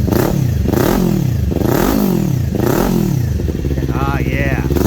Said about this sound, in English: And let's check out this cool sounding motor. Parallel twin, and listen to this.